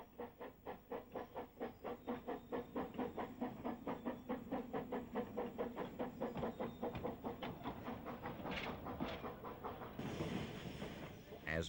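The narrow gauge steam locomotive Maitland, hauling a reopening special, pulls away from St John's toward Peel with steady chuffs that quicken from a slow beat, then a loud burst of hissing steam near the end, with no one speaking.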